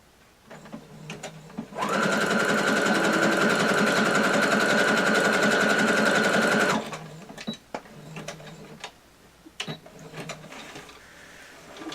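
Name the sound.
sewing machine stitching purple fabric appliqué edge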